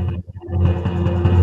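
A gong struck low gives a deep, sustained metallic tone with a low hum that swells after a brief dip and rings steadily, dense with rumbling overtones.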